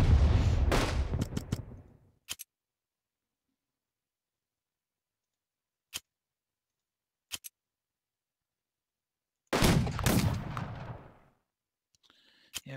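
Battleship bombardment in the strategy game Unity of Command II, heard as loud rumbling bursts at the start and again later, with sparse interface clicks between them in otherwise silent gaps.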